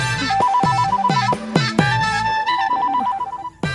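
A mobile phone rings with a bright, repeating electronic melody, loud and close, playing alone in looping phrases.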